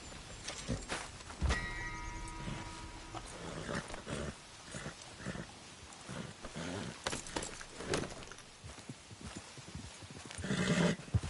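In the video game Red Dead Redemption 2, horse hooves clip-clop in an uneven rhythm while a horse neighs and snorts, with scattered game effects and a dog barking briefly, fairly close and moderately loud.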